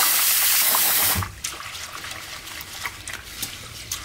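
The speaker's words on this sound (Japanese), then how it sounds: "お米洗います。" Tap water runs steadily and loudly for about a second, then drops to softer splashing and swishing as rice is washed in a home kitchen.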